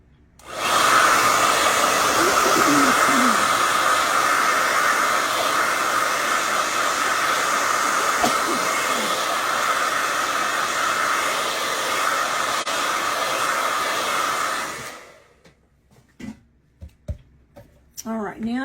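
A quiet hair dryer runs steadily indoors at a fairly loud, even level with a broad airy hiss for about fifteen seconds, then cuts off, leaving faint scattered clicks and handling noises.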